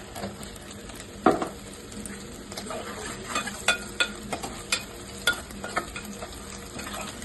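Dried shrimp frying in hot oil with turmeric, a soft continuous sizzle broken by close scraping and clinking strokes of a spoon against the pan, one louder knock early on, no talking.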